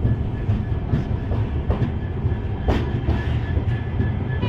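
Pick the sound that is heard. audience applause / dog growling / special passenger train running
special passenger train running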